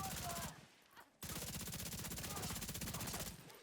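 Rapid automatic gunfire in The Division 2, loud and close, with sustained bursts of evenly spaced shots broken by a brief pause before resuming.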